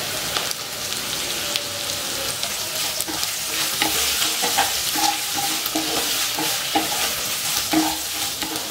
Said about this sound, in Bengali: ঝিঙেটাকে খুব ভালোভাবে মিশিয়ে নিচ্ছি